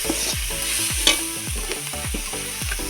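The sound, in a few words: stirring salted spices in a frying pan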